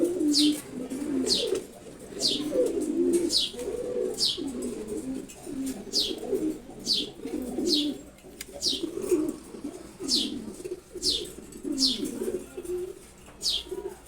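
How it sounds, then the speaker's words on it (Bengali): A pair of silver Gola pigeons coo repeatedly in low, throaty rolling phrases, with bright chirps from other birds overhead at a steady rhythm throughout. "এটা মাদি কবুতর"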